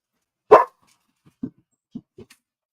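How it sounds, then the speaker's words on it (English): A single loud dog bark rings out near, followed by three softer, shorter woofs or grumbles spaced about half a second apart, with silence between. "Sorry for the bark."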